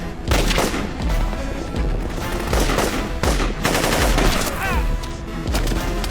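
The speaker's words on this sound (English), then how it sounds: "I moved left quickly, clearing the area with my SR-47 assault rifle" Rapid bursts of SR-47 assault rifle fire crack loudly and close, repeated shots running continuously with sharp transients over several seconds, with faint voices in the background.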